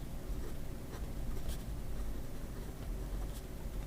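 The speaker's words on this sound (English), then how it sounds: "So when we look at the nib and the writing experience, first of all, in terms of wetness" A wet Omas 360 fountain pen nib scratches steadily across paper up close, a continuous soft rasp with small ticks as strokes begin and end.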